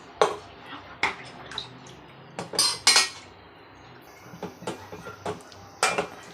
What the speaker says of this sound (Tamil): அப்புறம் கத்திரிக்காய் வந்து கொஞ்சம் முங்குற அளவுக்கு நம்ம தண்ணி ஊற்றிக்கலாம்.